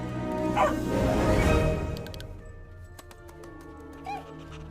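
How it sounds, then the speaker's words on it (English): A cartoon puppy from Disney's Bolt gives a few yipping barks and a short whimper, close and clear, with soundtrack noise fading underneath. "it's a little puppy dog"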